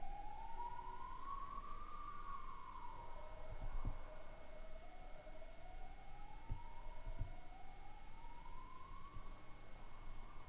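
An ambulance siren wails from the street several floors below, its pitch rising and falling in slow sweeps, distant and fairly faint over a steady background hum, with a couple of soft knocks.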